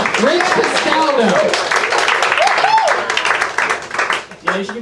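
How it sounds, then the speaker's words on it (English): A comedy show crowd claps and cheers in a dense, steady wash while voices shout over it, close and lively throughout. "you should give me a round of applause for getting up here"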